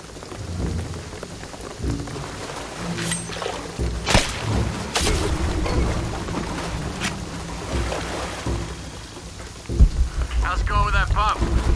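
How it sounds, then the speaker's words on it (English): Heavy rain on a beach in the video game Shadow of the Tomb Raider, a dense steady patter with a few sharp splashes and thunder-like rumbles, with faint voices and other game noises mixed in. "the rain is gonna flood the beach"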